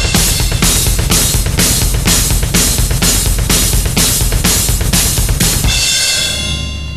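A fast, driving drum groove: rapid double bass kicks rumble steadily under regular snare hits, ending on a ringing cymbal wash.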